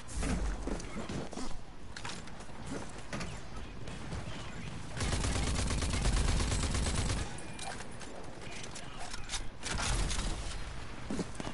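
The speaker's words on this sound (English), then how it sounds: "I'm shooting that way." Gunfire and mechanical clatter in the video game Rage 2, with a dense rapid burst mid-way amid ongoing game noise and a voice talking at times.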